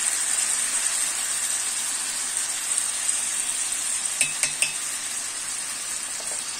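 Green beans fry in a pan with sautéed onions and butter, a steady faint sizzle and hiss with a brief cluster of utensil clinks against the pan near the end.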